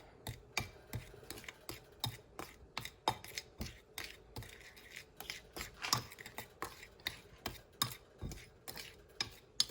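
Fish being mixed by hand with pepper and paprika seasoning in a bowl, giving a steady run of quick, close scraping and tapping strokes in an even rhythm with no talking.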